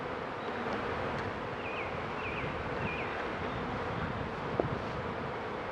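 Honeybees from a swarm buzzing inside a hive box during installation into a new beehive, a steady dense hum with wind noise over the microphone and a few faint rustles.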